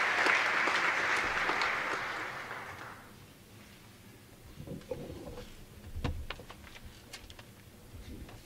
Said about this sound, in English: Welcome him with a warm applause.